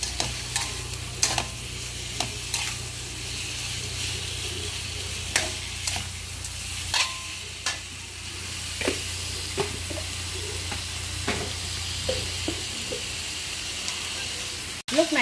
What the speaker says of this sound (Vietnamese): Lúc này thì mình sẽ xào cho cá chạch nó đều lên